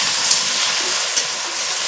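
Potatoes and eggplant with green chillies fry in a pan and hiss in a loud, steady sizzle as water is poured over them, close and continuous with a couple of faint clicks.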